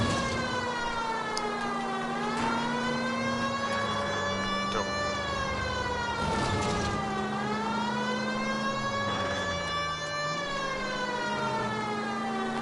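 A wailing police siren in L.A. Noire rises and falls in steady cycles, loud and continuous over a low engine rumble.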